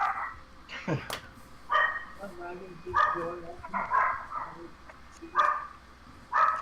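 Small Pomeranian dogs bark in sharp, repeated bursts at mid distance, with people talking over and between the yaps.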